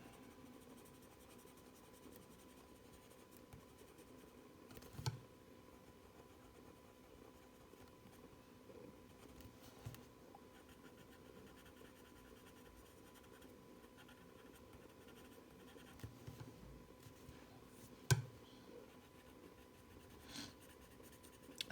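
Blue coloured pencil scratching over paper while colouring the outer edges of a butterfly illustration, a soft continuous scratchy texture with a few sharper taps, close and quiet, no talking.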